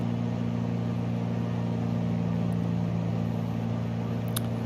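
A Just Flight Arrow III light aircraft engine roars steadily at full throttle during takeoff in a VR flight simulator, a constant loud drone with strong low harmonics and no talking.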